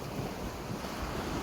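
Sea waves wash continuously onto a rocky, stony beach in Greece, a dense rushing surf with wind noise against the microphone and no voices.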